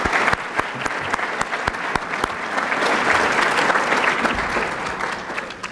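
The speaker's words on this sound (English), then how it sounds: "Let's give them a round of applause." A crowd at an entrepreneur awards event breaks into steady, full applause, sustained and fairly close, with a few sharp individual claps standing out near the start.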